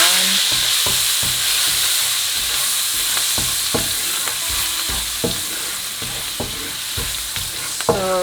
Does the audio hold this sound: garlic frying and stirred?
yes